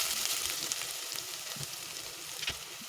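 Chopped onion and cumin seeds sizzle in hot oil in a pan for a vegetable samosa filling, a constant crackling fry with occasional sharper pops and stirring scrapes.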